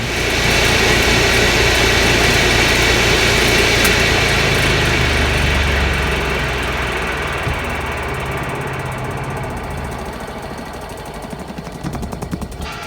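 Sky twin tub washing machine with its spin basket running, a loud continuous mechanical whirring rumble that gradually eases and fades as the spin slows down.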